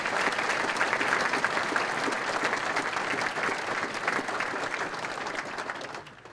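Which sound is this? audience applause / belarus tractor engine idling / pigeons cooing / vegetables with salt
audience applause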